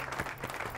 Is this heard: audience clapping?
yes